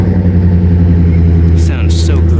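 A GMC truck's engine runs steadily through its exhaust, a loud, continuous low rumble with a few brief higher bursts near the end, and people's voices over it.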